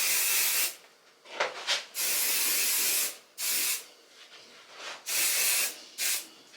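Short repeated bursts of Mizani hair spray misted onto a wig, five or six hissing sprays separated by brief pauses, close and fairly loud, with no talking.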